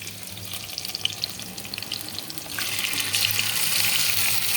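Hilsa fish pieces are dropped onto eggplant frying in a pan, and a steady close sizzle swells louder and hissier about halfway through. Nobody speaks.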